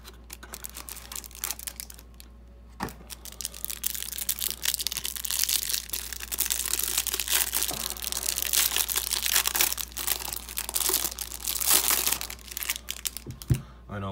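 Plastic wrapping on a 2021 Prestige trading card hanger box crinkles and crackles up close, a long run of irregular rustling and tearing with occasional sharp snaps.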